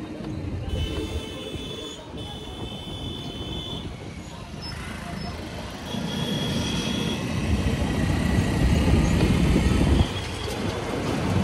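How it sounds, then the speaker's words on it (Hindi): City traffic noise rolls on in a dense, continuous roar of engines and passing vehicles, with a rising swell partway through and faint high tones above, a voice talking over the street din. "और हर जगह ट्रैफिक का शोर।"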